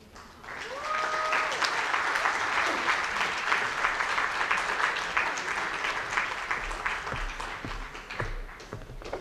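An audience breaks into warm, sustained applause for two singers about to perform at a stage show. A brief tonal whistle-like sound is heard early on, then the dense clapping swells, holds and slowly fades.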